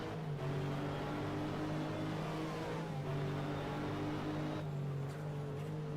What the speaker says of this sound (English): I can hear that car sport car again. Yeah, it's coming.